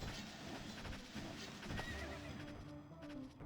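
A horse in a video game neighs amid a busy mix of game sounds, hoofbeats and clatter, heard at moderate level under a dense background.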